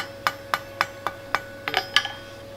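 A blacksmith's hammer strikes hot steel on an anvil while tapering one end of a forged J hook, giving seven or eight sharp, ringing blows at an even pace and then a quick cluster of lighter taps.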